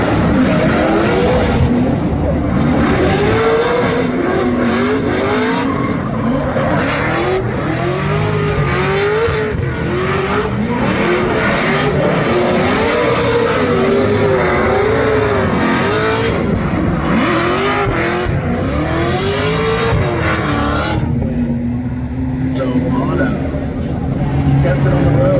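Formula Drift race cars battle on track, including one running a 1000hp 2JZ engine, giving a loud continuous roar with rising and falling revs and tire squeal heard from the stands, with voices mixed into the noise.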